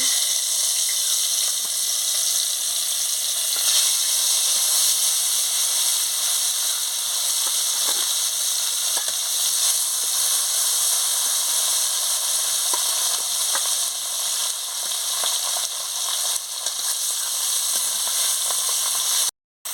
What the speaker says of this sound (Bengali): তেল গরম হয়ে গেছে, এবারে মাছটা ছেড়ে দিচ্ছি